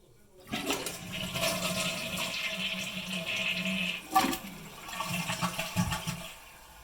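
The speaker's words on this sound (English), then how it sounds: "now I can flush it." A 2007 Kohler Wellworth toilet flushes with the tank lid off, a loud continuous rush of water that swells briefly near the end and then tapers into gurgling refill, with no talking.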